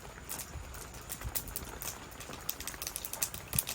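Mustard seeds pop in hot coconut oil for tempering, giving a quiet, irregular patter of small crackles and ticks that grows busier toward the end.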